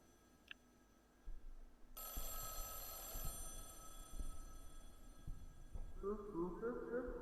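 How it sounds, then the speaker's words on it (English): A telephone rings in the indie horror video game Mothered, its bright repeating tone entering partway through over a low, steady game ambience with faint thuds. "You pick up the phone."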